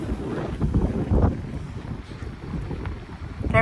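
Strong wind buffets the microphone in a steady rumbling roar at the sea, with water and waves washing faintly underneath.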